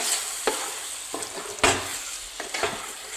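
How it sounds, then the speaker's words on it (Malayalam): Chicken coated with a cornflour mixture is stirred in a pan, several distinct scraping strokes over a light sizzle, close and without talk. "ചിക്കനിലേക്ക് നമ്മൾ ഈ കലക്കി വെച്ച കോൺഫ്ലവർ പൊടി ചേർത്ത് കൊടുക്കുക നന്നായി മിക്സ് ചെയ്യുക"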